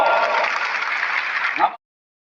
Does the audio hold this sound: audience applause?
yes